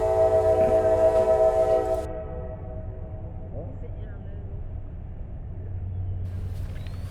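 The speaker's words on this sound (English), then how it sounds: "the train on the main is starting to roll and is heading northbound" A train on the main line, between Cordele and Stockbridge, begins rolling northbound: a sustained tonal blare for the first two seconds, then a low, steady rumble continuing at moderate distance.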